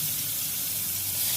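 Marinated chicken pieces shallow fry in two to three tablespoons of oil in a pan, giving a steady, dense hiss of sizzling with no speech over it.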